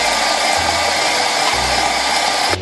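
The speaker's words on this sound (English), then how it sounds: "We're gonna pop this mixer down, lock it in, and mix her up." A stand mixer creams butter and sugar for oatmeal raisin cookies, giving a loud, steady motor whir with a constant tone that holds the whole time and cuts off abruptly at the end.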